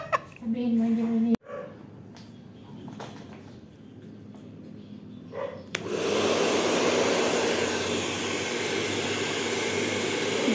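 Hair blow dryer running during hair rebonding in a salon: after a few seconds of talk and small clatters, a loud, steady whooshing roar starts and continues unbroken to the end.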